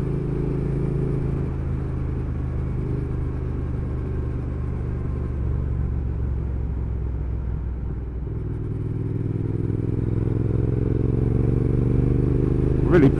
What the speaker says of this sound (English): Really pleased with those new exhausts though, they really sound nice.